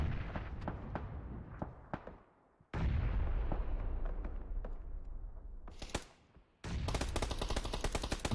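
Gunfire in a PUBG esports match, sharp repeated shots and rapid bursts with echoing tails, stopping briefly then resuming as a dense fusillade near the end.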